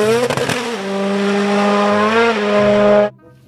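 A toy race car gives off a loud, steady electronic engine tone with rich harmonics, a brief rattly burst near the start and a slight pitch shift midway, running about three seconds before cutting off abruptly.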